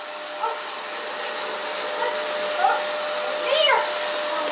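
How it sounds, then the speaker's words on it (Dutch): A household vacuum cleaner drones steadily and loudly in a family home, with a few faint high voice-like squeals rising briefly over the constant motor hum. "Zet de stofzuiger even uit."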